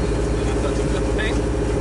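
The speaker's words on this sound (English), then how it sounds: "The only thing we've got going on now? The whistle." A sailboat motoring under engine gives off a brief high whistle, attributed to the stern gland after the boat went back in the water, heard faintly over a steady low engine drone.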